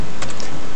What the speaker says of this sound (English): we want to just type in PIC